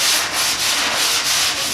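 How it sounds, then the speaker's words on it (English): Sandpaper scrubs paint off a car fender in quick rhythmic back-and-forth strokes, a loud, close, harsh rasping with a regular pulse and no voices. "As you can see here, as we start to sand,"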